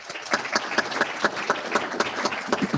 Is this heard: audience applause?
yes